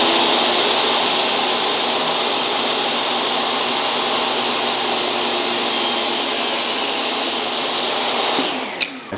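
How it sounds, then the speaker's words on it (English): A power saw cuts a wooden test strip from leftover cabinet stock at a 30-degree angle, a loud, close, continuous whining roar that holds steady for several seconds before spinning down at the end. "I'm gonna be cutting a test strip with what was left over earlier."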